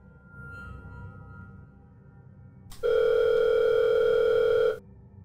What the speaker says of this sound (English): His phone was ringing